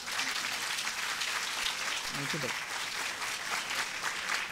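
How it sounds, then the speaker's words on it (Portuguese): Audience applause at the opening of a morning talk on conflict mediation, a dense continuous roar of clapping throughout, with a brief spoken remark heard under it. "vamos dar uma salva de palmas de bom dia para vocês?"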